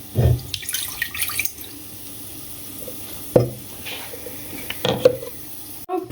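Water runs from a kitchen tap in short bursts and splashes, with clinks and handling noises between the flows and brief pauses of near quiet.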